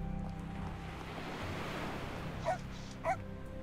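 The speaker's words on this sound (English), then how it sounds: "I guess hello to the little doggy" A small dog in a Victorian steampunk role-playing game gives two short, quiet barks near the end, heard over a steady bed of ocean surf and low ambient game music.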